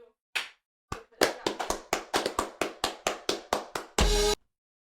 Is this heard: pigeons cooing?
no